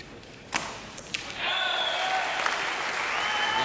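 Audience applause at a 1997 IBF World Championships men's singles semi-final badminton match, a steady distant wash of clapping rising after a few isolated thumps, with faint crowd murmur throughout.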